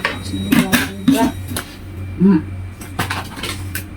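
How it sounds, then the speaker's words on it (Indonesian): Clattering metal lid of a pressure cooker being fitted and closed on a pot of rendang beef, a few close clanks and knocks at uneven moments with kitchen handling noises around them and a person talking. "Oke, kita tutup dulu. Kalau masak pakai presto harus hati-hati, jangan sampai ada yang bocor."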